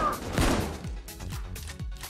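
Sniper gunfire in the video game Payday 2 comes as a loud opening shot followed by several sharp, evenly spaced reports with thudding low ends, in a busy in-game scene with no talking.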